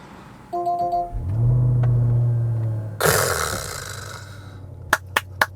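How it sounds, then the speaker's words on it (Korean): A BMW-built V8 in a long-wheelbase Range Rover Autobiography P530 rumbles up from idle into a loud, sustained low growl heard from inside the cabin, then settles, followed by a few sharp clicks. "BMW의 8기통 사운드가 실내로 들어오면은 굉장히 깜짝 놀랍니다"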